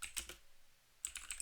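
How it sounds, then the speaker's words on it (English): A few quick keystrokes on a computer keyboard: a short cluster of taps, a brief pause, then another cluster of light, close clicks in a quiet room. "If I type in Mike likes"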